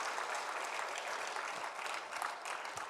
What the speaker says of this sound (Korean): 어젯밤에 친 박수로 앵콜을 지금 하는 거고